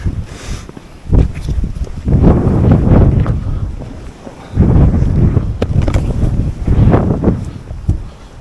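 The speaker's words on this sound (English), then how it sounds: "it's quite windy and I don't know how much of this you're catching anyhow" Strong gusts of wind batter the microphone in loud, irregular rumbling bursts on a hike at Flamborough, rising and falling several times with brief lulls between.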